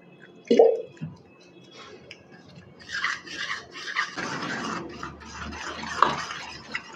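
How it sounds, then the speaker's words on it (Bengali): Warm water poured a little at a time into malpua batter being mixed in a bowl, with a soft splash followed by wet stirring and sloshing sounds, close and fairly quiet with no talk. "এর মধ্যে এখন আমি দিয়ে দিব উষ্ণ গরম জল।"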